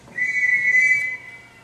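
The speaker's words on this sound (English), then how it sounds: "He didn't whistle for us when his wife was alive." A ship captain's whistle blown to summon people gives one sustained, shrill, steady blast lasting about a second, loud and alone with no voices.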